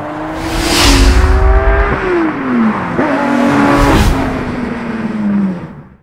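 A modified 1000-horsepower 2004 Mercedes SL55 AMG with a fully built engine revs hard at a drag race event, the loud engine note climbing, dropping and climbing again over several seconds, close by.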